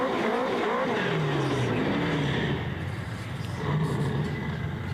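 A Ford Barra-powered LT Camaro with a stick shift drag racing at a street event, its engine revving and climbing through gears with a rising, wavering whine, loud and close before easing slightly.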